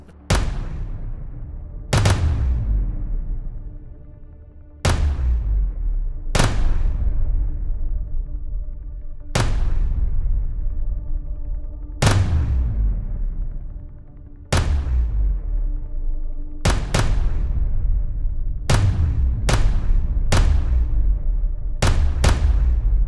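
Pistol shots from Atlas EOS and Apollo handguns, about a dozen sharp, loud reports with long booming decays, fired singly at irregular intervals and then in quicker pairs toward the end, with no voices.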